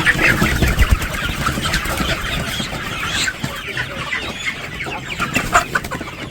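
A flock of farm chickens clucks and squawks continuously at close range as they are chased and caught for sale, the agitated calls rising in short bursts.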